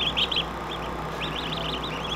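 Ducks in a garden quack in repeated short bursts, clear and close, with a brief pause before a longer run of calls over a faint steady background.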